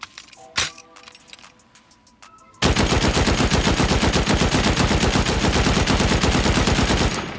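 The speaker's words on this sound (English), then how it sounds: "Using HMLMGs this time." HMLMG machine guns fire in a video game raid. A few scattered shots and clicks come first, then a loud, sustained stream of rapid automatic fire runs for several seconds.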